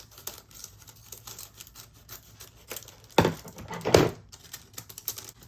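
Paper gift packaging for an Anna Griffin card kit being cut open, with soft rustling and scraping and two louder crisp snips or tears near the end, close and fairly quiet in a room.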